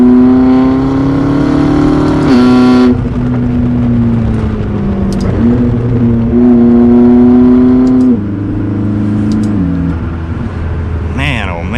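Tuned McLaren MP4-12C supercar engine revving and pulling hard while driving, loud and close from inside, pitch climbing through gears with brief drops at shifts, a voice talking over it at times.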